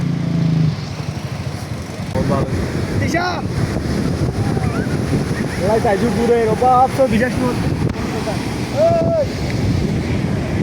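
Ocean surf rolling onto the beach at Cox's Bazar, a steady broadband wash with wind buffeting the microphone, while people talk and call out over it throughout.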